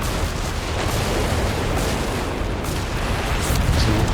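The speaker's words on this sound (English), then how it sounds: "Stuka again trying to counter barrage the Bishops." Counter-battery artillery from a Stuka in Company of Heroes 3, a dense, continuous rumble of booms and blasts, loud and close throughout without any distinct pauses.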